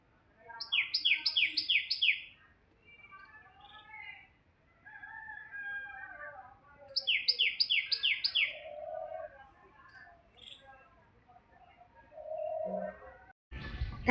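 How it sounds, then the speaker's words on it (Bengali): Birds gather in the morning in front of a home's doorway, calling in repeated bright descending trills, with softer chirps between bursts and a clatter at the very end. "দারুণ লাগে পাখির ডাক।"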